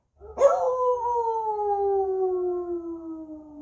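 A single long wolf howl sound effect rises sharply and then holds a steady, slowly falling tone for several seconds, loud and clear with nothing else over it.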